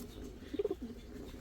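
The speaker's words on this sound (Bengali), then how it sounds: "ফুল ফ্রেশ একটা লালদম নর কবুতর" A Laldom male pigeon at a bird market gives a short, low cooing call of a few quick pulses in the middle, close and clear over quiet background noise.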